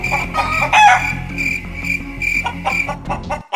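Cartoon chickens cluck and a rooster crows in a noisy, overlapping burst of squawks, close and lively, with no voices.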